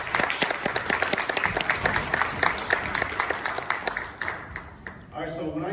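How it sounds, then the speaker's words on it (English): A room audience at a panel discussion claps in lively applause, the claps crisp and fairly close, then fading out while a voice begins speaking at the end. "let's give you guys yourselves a round of applause for being here today"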